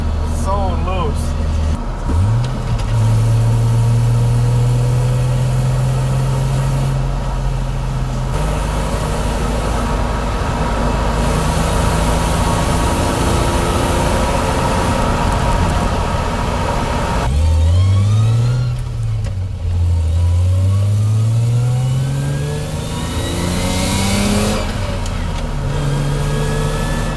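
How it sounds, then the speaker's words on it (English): A Toyota Chaser JZX100 with a manually swapped R154 gearbox revs and accelerates, the engine pitch climbing and dropping across gear changes, with an odd mechanical noise during acceleration and someone talking throughout. "Okay, there's a weird noise when I accelerate."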